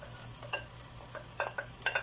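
Garlic frying in a pan at home, a soft steady sizzle with faint scraping and clinks of a utensil stirring, quiet and close.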